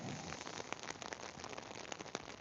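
Rain falls steadily and fairly close, a dense hiss of drops pattering on a surface with small irregular taps, faint overall and with no talking.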